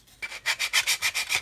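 A sanding stick rubs back and forth on a plastic scale model aircraft kit near the landing gear bay, giving about eight close, even rasping strokes in a steady rhythm with no talk.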